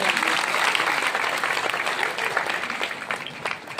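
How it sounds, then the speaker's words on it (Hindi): An audience applauds loudly to welcome a guest at a ceremony in Saldha, Bemetara, with dense clapping that slowly tapers off toward the end. "जोरदार तालियों से अभिनंदन।"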